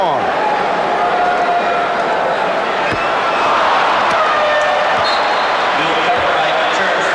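Arena crowd noise at the 1991 NBA Finals Game 1, Lakers versus Bulls, a steady loud roar with a basketball bouncing on the court and scattered thuds, broad and continuous throughout.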